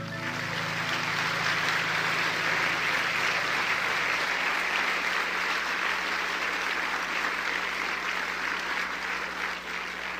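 A church congregation applauds at the close of a Bible study prayer, a steady, dense wash of many hands clapping that holds evenly throughout, with a faint low hum underneath.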